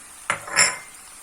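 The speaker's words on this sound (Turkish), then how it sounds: "Şöyle bir karıştırıyorum domatesimle." A spoon scrapes and clinks against a pan while lentils and tomato are stirred together, two quick close knocks and a short scraping swirl in an otherwise quiet kitchen.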